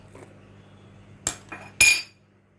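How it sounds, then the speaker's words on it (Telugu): Dried red chillies and garlic pounded in a stone mortar, three sharp knocking strikes of the pestle against stone, close and distinct over a quiet background. "ముందుగా ఎండుమిర్చి నూరేసుకుందాం ఇలా కొంచెం నలిగాక వెల్లుల్లిపాయలు కూడా వేసేయండి"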